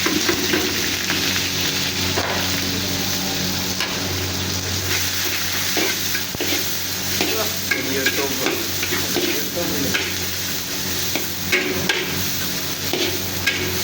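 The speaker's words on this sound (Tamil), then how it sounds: "எண்ணெய் காஞ்சி நெய் காஞ்சிடுச்சு. வெங்காயம் 3/4 கிலோ வெங்காயம் வெட்டி வச்ச வெங்காயம் போடுறோம்." Chopped onions, three-quarters of a kilo, fry and are stirred in hot oil and ghee for a Sunday mutton biryani: a loud, steady close sizzle with scraping stir sounds throughout, no talking.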